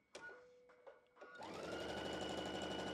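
A sewing machine stitching quilt block pieces starts with a few short taps and whirs, then settles into a fast, steady close-up running hum to the end.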